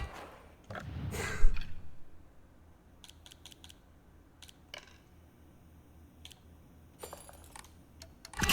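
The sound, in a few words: typing on a keyboard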